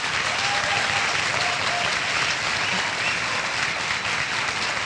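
Sustained audience applause for the writer Mia Couto being called to the stage, a dense, steady wash of many hands clapping at even loudness throughout, with no talk over it.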